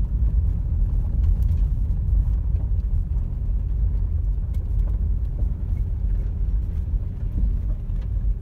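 Car rolling along a gravel road near a high school, heard from inside as a steady low rumble with faint crunching and small knocks throughout, no voices.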